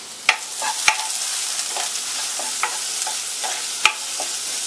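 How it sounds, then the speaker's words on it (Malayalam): Chopped onions and green chillies sauté in hot ghee in a pan for bread upma, with a steady soft sizzle broken by several sharp spatula scrapes and knocks against the pan. "ഈ സവോളയും ആ പച്ചമുളകും കൂടെ ഒന്ന് നമുക്ക് വഴറ്റിയെടുക്കാം"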